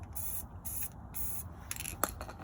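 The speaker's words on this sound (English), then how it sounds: "So I'm going to spray it in a couple of spots." Spray paint hisses onto a vase for hydro dipping in several short, close bursts separated by brief pauses, with a faint rattle near the end.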